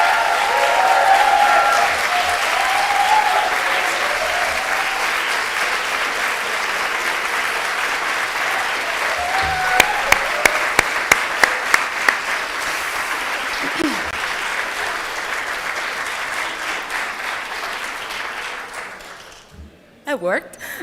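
An audience at a graduation ceremony claps in a long, dense round of applause that fills the hall and fades out near the end, with voices audible among the clapping.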